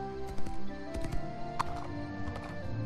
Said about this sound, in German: Dann drehen wir einfach mal noch eine Runde mit Lutz. Eine Runde Gassi reiten